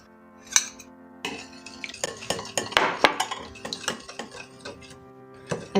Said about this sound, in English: Then you're gonna whisk this together.